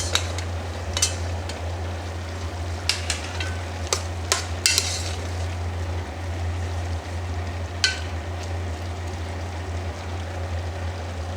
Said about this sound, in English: add the rest of the potatoes. And the carrots.